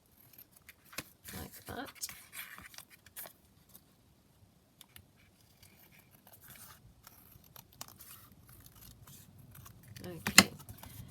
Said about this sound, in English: I'm just going to trim that off down here on the edge.